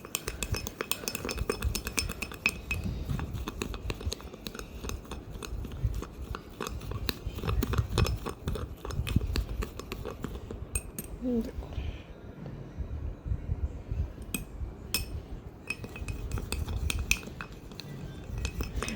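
A cold coffee mixture beaten hard in a glass, quick repeated clinking and scraping strokes in a steady rhythm, with a voice talking throughout.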